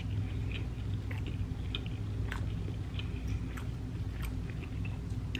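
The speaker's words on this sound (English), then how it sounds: "Bite of Spanish rice." Close, soft chewing of a mouthful of Spanish rice, a steady run of moist mastication sounds with faint wet clicks, heard alone without talk.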